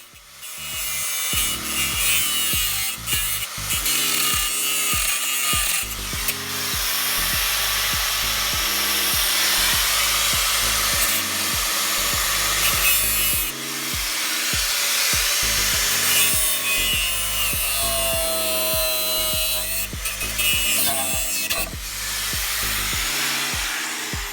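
A power saw cutting into the bodywork of a Lancia Integrale near the metal framework, a loud continuous grinding buzz broken into rapid stuttering bursts, close and unbroken for the whole stretch.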